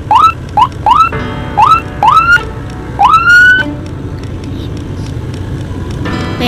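Emergency siren from an ambulance in the Roblox driving game Car Driving Indonesia, a loud rising electronic wail repeated in short bursts and then one longer sweep, fading to a steady rumble of game ambience.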